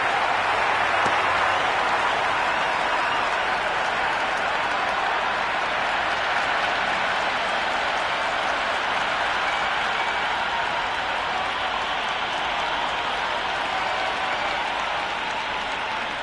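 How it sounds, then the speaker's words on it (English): Loud, dense crowd roar at a cricket stadium during an India vs Netherlands T20 World Cup match, a steady wall of cheering and clapping that holds alone at even strength throughout. "The crowd are really getting quite raucous. It's going to be difficult to focus down in the middle with this amount of noise."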